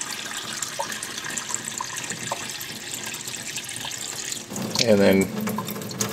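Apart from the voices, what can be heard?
water filling a pot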